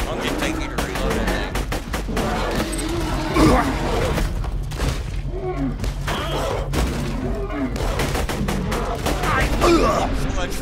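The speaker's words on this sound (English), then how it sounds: "Come on, reload, you stupid gun." Gunfire from a gun in Borderlands sounds as dense, continuous bursts of shots and impacts, loud and close, with game effects and thuds layered throughout and no talk in the clip.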